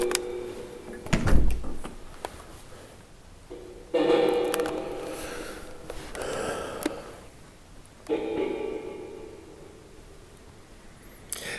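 Knocks and thuds echo in a building during a paranormal investigation, a sharp bang early followed by several duller bumps and rattles spaced seconds apart, with no voices.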